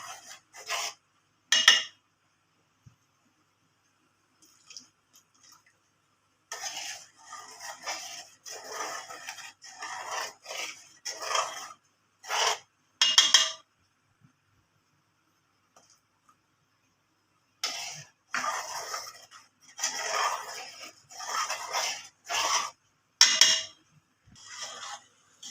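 A spoon scraping around a pot as milk is stirred while curdling with vinegar, in separate bursts of rasping, clinking strokes split by quiet pauses; close and fairly soft.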